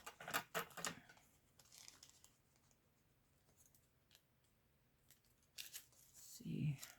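Scissors cut through thin tissue paper with a quick run of rustling snips at the start and another burst near the end, quiet in between, and a brief voice comes in toward the close.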